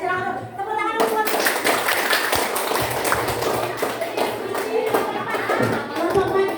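Classroom applause for a student group, dense children's clapping starting abruptly and continuing steadily and close, with voices mixed in.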